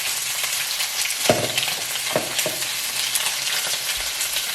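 Pieces of black pepper steak frying on medium-high heat in a cast iron pan give a steady close sizzle and crackle, broken by a few sharp pops and stirring scrapes.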